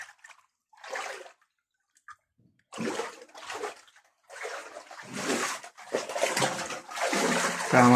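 Flood water filling a house, heard as intermittent bursts of sloshing and splashing water, louder and more continuous toward the end, with brief quiet pauses between.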